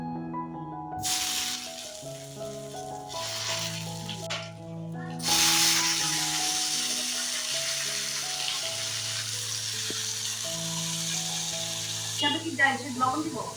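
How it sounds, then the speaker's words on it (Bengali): Loud, steady sizzling of vegetables dropped into hot oil, bursting in with a hiss and crackling continuously over background music. "ফোড়ন দিয়ে দিয়েছি এখন সবজিটা ছেড়ে দেবো"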